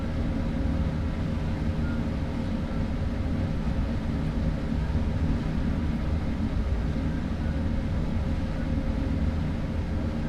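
A train in the Train Sim World 3 simulator runs at speed, giving a steady, dense low rumble and drone that holds at an even loudness throughout, with no pauses or voices.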